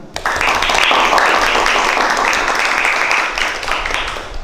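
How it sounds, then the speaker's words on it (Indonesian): Students and audience at an SMK Wahidin public speaking workshop in Cirebon break into applause for the speaker, a sudden burst of dense clapping that holds steady for several seconds before thinning slightly. "Kita beri tepuk tangan sekali lagi untuk pemateri kita."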